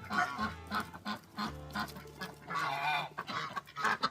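Geese honk repeatedly in a noisy, close flock, loud overlapping calls with brief pauses throughout.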